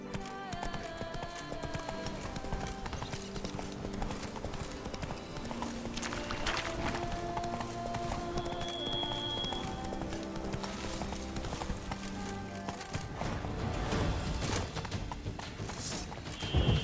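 A horse gallops in a video game, rapid rhythmic clip-clop hoofbeats running steadily over a bed of game music and ambience, growing a little louder toward the end.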